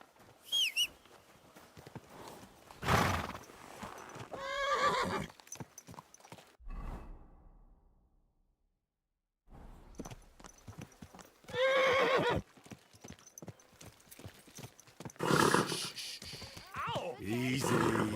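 Horse in Kingdom Come: Deliverance II whinnying and neighing, with hooves clip-clopping in repeated bursts separated by a short silent gap, while someone talks calmly nearby.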